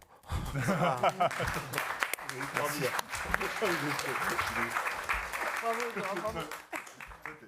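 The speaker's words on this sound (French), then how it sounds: "Des applaudissements?" Audience applause at a French talk on green value in housing and the city, steady dense clapping throughout with murmured voices and some laughter mixed in.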